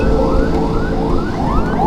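An ambulance siren wails on a blocked road, its rising sweeps repeating steadily and loud over a constant low engine rumble.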